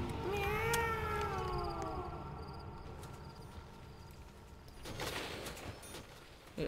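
A short cartoonish cat meow marks a round change in a zombies video game, then fades into quiet background game noise with a soft swell near the end.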